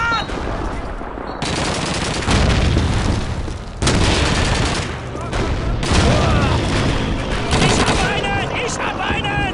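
Gunfire and heavy blasts from a World War II battle in Call of Duty 2, where a German potato masher grenade goes off; loud, dense bursts and booms fill the scene continuously, with shouting voices mixed in.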